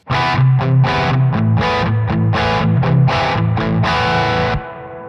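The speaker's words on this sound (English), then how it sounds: "as you can hear, it's a stereo reverb" Distorted electric guitar chords played in a steady rhythm through a Sonicake Pocket Master's Dream stereo reverb, washed in a wide, spacious reverb that rings on briefly after the last chord stops.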